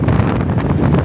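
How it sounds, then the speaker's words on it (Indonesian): Strong wind buffets an outdoor microphone at a cycling race in Yogyakarta, a loud, continuous rumbling roar with gusty flutter and no speech. "Angin cukup kencang ya"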